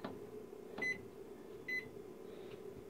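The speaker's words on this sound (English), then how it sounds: "set the timer for another 45 minutes." An oven's digital timer beeping as it is set, two short bright electronic beeps about a second apart over a steady low appliance hum, quiet and close with no speech.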